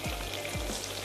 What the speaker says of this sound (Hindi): प्याज को थोड़ा सा चम्मच चलाते जाते हैं